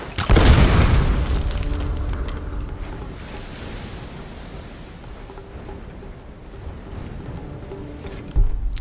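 A bomb goes off in the Tomb Raider video game: one loud, close boom near the start, followed by a long rumbling, noisy decay that slowly fades, then a brief thump near the end. No one speaks.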